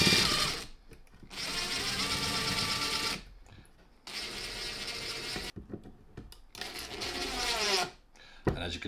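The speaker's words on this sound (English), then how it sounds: "And we just tighten that in then with our screw." A screw is tightened into a heavy duty wall fixing, giving several close, buzzing, whirring bursts of a few seconds each, separated by short pauses.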